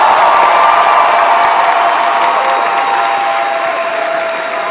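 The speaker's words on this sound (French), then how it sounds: "Un tonnerre d'applaudissements pour les représentants chinois de SICAF qui sont là aujourd'hui." Loud, sustained audience applause with some cheering at a cosplay contest, a dense steady roar of clapping from a large crowd that fades slightly toward the end.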